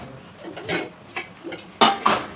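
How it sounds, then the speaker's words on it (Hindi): Household pots, a pressure cooker and utensils are taken out in a home kitchen, producing scattered clinks and knocks, with two sharper metallic clanks near the end, close and moderately loud. "तो अभी मैं जो बर्तन वगैरह है सब निकाल के रख दूँगी"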